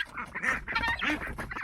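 At feeding time, a crowd of ducks and guinea fowl squabbles close by in a dense, nonstop clamor of honking quacks and harsh calls that overlap with no break.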